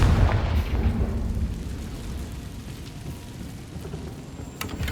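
Confringo fire spell blast in Hogwarts Legacy: a loud booming burst at the start that rolls off into a fading, crackling rumble with no talk.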